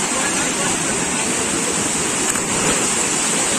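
Water rushing down the Pirandavne waterfall in Ratnagiri makes a loud, steady roar of broad, continuous noise throughout, with no break or change.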